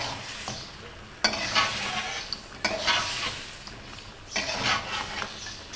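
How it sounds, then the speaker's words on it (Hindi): Mutton frying with spice paste in a karahi, with a continuous sizzle and repeated stirring scrapes and clanks of a spoon against the pan, close and without speech. "अब हम मटन को पेस्ट के साथ अच्छे तरीके से शामिल करके भून लेंगे।"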